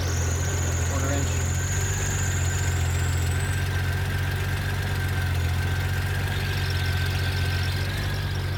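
A 1997 Honda GL1500 SE motorcycle idles steadily and close, low on clutch fluid, with a thin high whine from the clutch that fades out about halfway through over the constant engine rumble.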